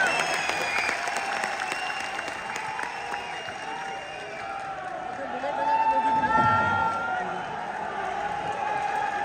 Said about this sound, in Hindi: इतनी बार तालियां बजवा ली इन्होंने